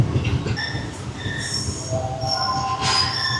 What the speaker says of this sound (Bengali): ট্রেন আবারও লুপ লাইন থেকে মেন লাইনে উঠছে